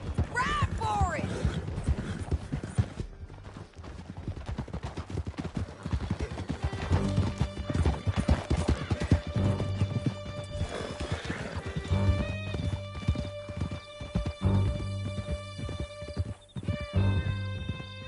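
A horse galloping under its rider in the Red Dead Redemption 2 video game: rapid rhythmic hoofbeats with a whinny, set against game music and voices.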